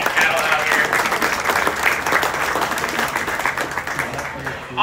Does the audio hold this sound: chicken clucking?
no